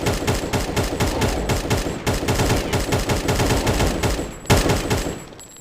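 Rapid bursts of automatic gunfire from several guns in a Minecraft zombie game, a dense continuous fusillade of sharp repeated shots with a louder burst near the end, no talking.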